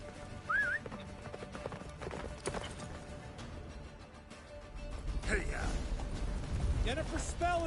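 A horse gallops in the Witcher 3 video game, hoofbeats clip-clopping under voiced game dialogue, with music and effects layered in and the galloping growing louder toward the end.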